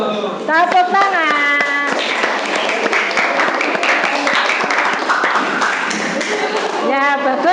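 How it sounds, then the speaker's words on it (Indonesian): Classroom applause as students clap for a group that has just finished presenting, a dense continuous patter of many hands with voices talking over it at the start and end. "Tepuk tangan."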